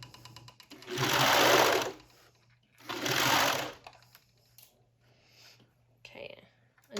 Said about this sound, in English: then you can just serge off the edge